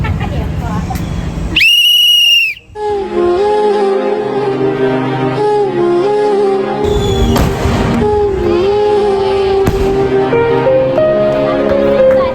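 A small toy whistle gives one loud, shrill blast lasting about a second, then music with voices continues afterward.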